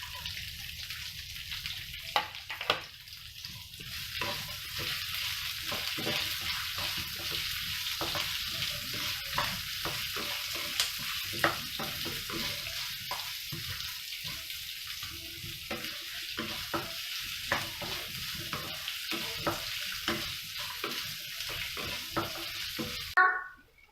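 Onions fry in a pan while being stirred for coriander chutney, a steady close sizzle broken by frequent scraping and clattering strokes of the spoon, continuing throughout before a sharp knock at the end.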